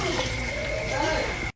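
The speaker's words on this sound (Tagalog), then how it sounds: "Lagyan muna natin ng tubig." Water poured into a container, heard as a steady, close, continuous splashing rush that cuts off abruptly at the end, with faint talk beneath it.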